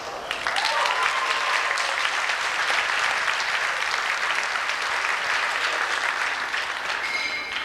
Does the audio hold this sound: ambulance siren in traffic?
no